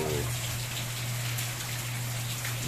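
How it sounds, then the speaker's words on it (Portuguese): Heavy afternoon rain pours down steadily in Cacimba de Dentro, Paraíba, a dense, even hiss of drops on surfaces with a low steady hum underneath, continuous and fairly close. "6 dias chovendo já, encarreado, como diz o ditado, sempre nesse mesmo horário."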